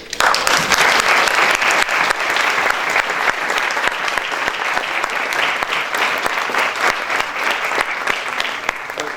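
Loud, sustained applause from a university lecture audience welcoming a speaker to a talk commemorating the 1985 and 2017 earthquakes, a dense even roar of many clapping hands lasting throughout, nearly alone with little talk.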